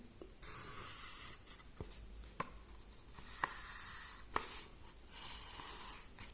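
Pen or pencil scratching on paper while a rectangle is drawn by hand, with several soft strokes and faint taps in a quiet room.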